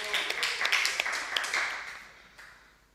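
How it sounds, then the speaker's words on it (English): A small audience at a religious class claps for a participant, a quick flurry of uneven hand claps for about two seconds that thins and fades out, with faint background murmur. "Let's clap for Prabhu."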